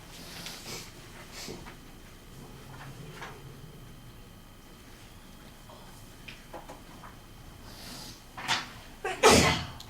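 A single sharp sneeze bursts out near the end, close and fairly loud, after a stretch of quiet room noise with faint scattered knocks and rustles.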